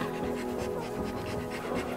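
Newborn Bernese Mountain Dog puppies squeal and whimper while nursing in a continuous, faint chorus of high little cries, mixed with soft panting and shuffling nearby.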